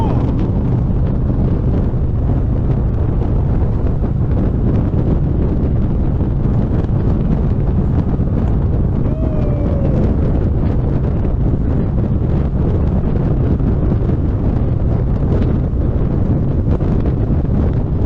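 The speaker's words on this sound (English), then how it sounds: "Oh man, that wind is blowing, bro." Heavy wind roars into the microphone while riding a Harley-Davidson Road Glide with a big windshield in cold weather, a loud constant rush filling the whole stretch with faint engine rumble beneath.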